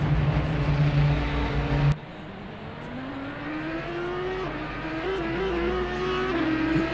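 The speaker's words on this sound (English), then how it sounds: "You want to listen to those roaring engines." Race car engines roar in the Assetto Corsa Competizione racing game, a loud continuous drone that drops in pitch after a sharp cut, then rises steadily as a car accelerates through the gears.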